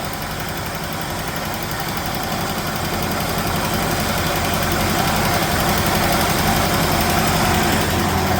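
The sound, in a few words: 1969 Chevrolet Chevelle engine idling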